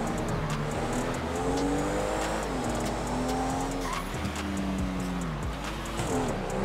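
Porsche car driving in GTA 5, engine revving up and down through gear shifts with tire squeals as it corners, close and steady throughout.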